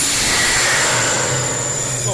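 A supercharged Impala fitted with a TorqStorm blower roars loudly and steadily while the throttle is opened, with a broad hissing whine over the exhaust rumble and voices faintly mixed in.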